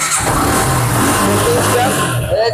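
A Suzuki Gixxer Monotone motorcycle fires up on its self-starter and settles into a loud, steady engine drone close by, with a voice talking over it.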